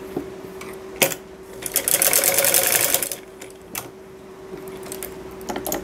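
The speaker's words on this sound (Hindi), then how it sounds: "ये हमने अपनी सिलाई कर ली है।" A domestic sewing machine stitches a pocket seam on a salwar, a steady whirring run of stitching near the mic with short mechanical clicks before and after, and no talk.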